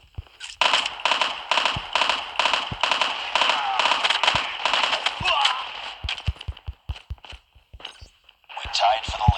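Call of Duty played on a Samsung Galaxy S9, with rapid close gunfire crackling in bursts alongside game voice callouts, followed by sharper isolated shots and footstep-like taps.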